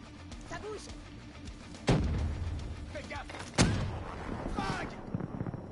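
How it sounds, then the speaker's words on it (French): Gunfire and a grenade blast during a Black Ops 3 multiplayer match, with two sharp booming hits about two seconds apart over continuous talking and game noise. "La petite grenade qui fait mal."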